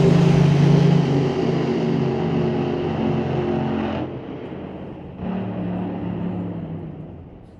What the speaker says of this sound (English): Pulling the car into the pre-stage beams right now for another fast and loud run.